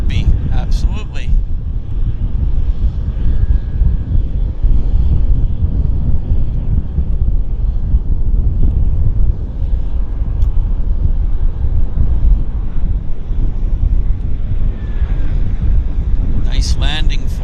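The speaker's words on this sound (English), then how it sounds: "Nice landing for us." An airliner landing at Vancouver airport, a loud steady roar of engines and wind rush lasting throughout, with brief voices near the start and end.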